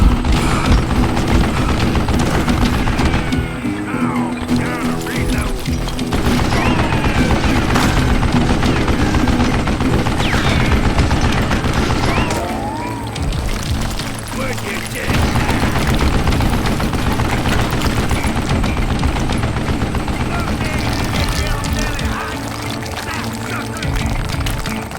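Machine gun fire in the western video game Call of Juarez Gunslinger: a loud, continuous rattling barrage of rapid shots that runs almost unbroken for the full length, dipping briefly in places.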